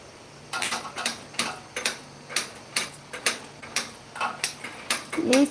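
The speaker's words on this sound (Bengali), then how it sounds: "ওরে জ্বালা, খালি শব্দ, চুলা আর জ্বলে না" A gas stove igniter clicks over and over without the burner catching, sharp ticks coming at a steady, slightly uneven pace and fairly close, with a faint voice at the very end.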